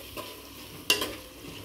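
A cooked vegetable mixture with coriander and mint being stirred in a pan: a soft sizzle underneath, with a couple of spoon scrapes, one sharper clatter near the middle.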